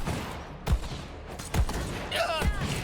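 Gunfire from the video game Borderlands 3: a few separate shots spread over a few seconds, one followed by a ringing, whistling tail, amid game background noise.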